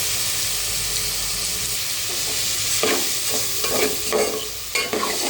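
Small prawns fry in hot oil for a bottle gourd prawn curry, a continuous loud sizzle that grows into bursts of crackling and spatter as the pan is stirred.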